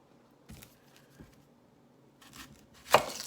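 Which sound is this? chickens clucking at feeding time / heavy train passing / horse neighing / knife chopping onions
knife chopping onions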